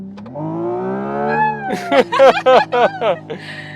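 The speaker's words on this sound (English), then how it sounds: "when you really pin it down, it unleashes like one more step of this sound emulation" A Hyundai Ioniq 6 N electric car's emulated engine sound under hard acceleration: a loud, close, rising engine-like tone, then a series of choppy, stuttering bursts like rapid gear shifts.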